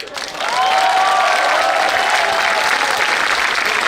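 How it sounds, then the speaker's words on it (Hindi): A student audience at a Hindi poetry recital (kavi sammelan) at IP College in Delhi breaks into loud, sustained applause that swells within half a second and holds steady as a dense wash of clapping. "आगे से पीछे तक सभी लोग एक बार जोरदार तालियां इसरो के लिए बजाइए"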